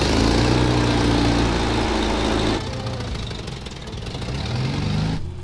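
A 1983 Toyota Trekker's engine runs steadily as the truck backs out toward a paint shop, a loud, close, rumbling drone that drops slightly in level midway and then swells again.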